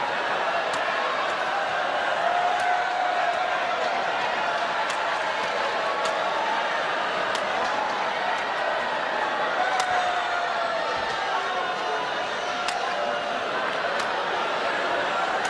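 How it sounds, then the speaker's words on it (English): A badminton crowd at the 2012 All England men's doubles final murmurs and boos as a steady, distant wash of noise, with faint sharp clicks scattered through it. "some boos from the crowd"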